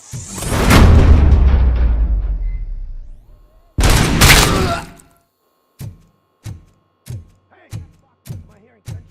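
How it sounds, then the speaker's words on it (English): Gunfire in the video game Robocop Rogue City: a loud booming blast with long decay, a second burst, then a steady series of six evenly spaced sharp shots, no talk over them. "Am I hearing gunshots?"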